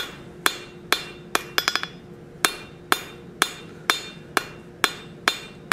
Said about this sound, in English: We're going to go to the flat of the anvil to true everything up.